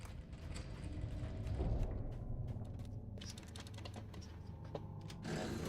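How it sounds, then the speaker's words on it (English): A drawbridge lowers in a video game, its mechanism giving off a steady rattling, clicking clatter that runs for several seconds at moderate volume, with no talking over it. "A rattling sound reaches from the west. You have lowered the drawbridge."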